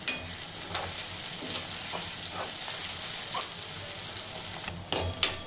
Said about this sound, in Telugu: ఆయిల్ వేడైన తర్వాత ఆనియన్స్ వేసుకోవాలి